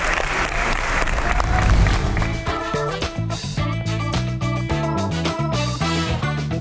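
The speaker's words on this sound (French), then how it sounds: "On peut l'applaudir, s'il vous plaît." Crowd applause at a belly-flop diving contest rises as a dense wash of clapping at the start, then is overtaken by loud rhythmic music that carries on to the end.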